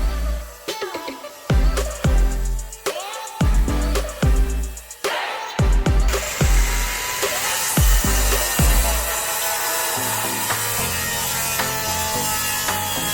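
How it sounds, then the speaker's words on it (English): A circular saw cuts through plywood for an arch, first several short bursts, then a long continuous rasping cut that trails into a steady motor whine, loud and close with no talking. "This is my circular saw is the only tool I have on site."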